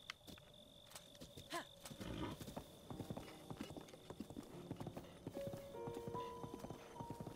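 Horse hooves clip-clopping in the video game Breath of the Wild, a steady run of mid-loud hoofbeats joined by scattered game effects and tones, with no talking.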